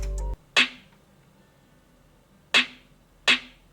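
A snare in a beat: after a short low tone cuts off, three sharp, bright snare cracks land with uneven gaps, each decaying quickly into near silence.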